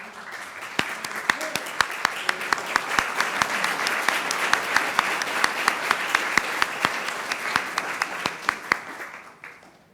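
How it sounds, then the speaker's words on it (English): Audience applause for students at a school business meeting, a dense and fairly close round of clapping with sharp individual claps standing out, lasting about nine seconds before tapering off. "How about another round of applause for the students?"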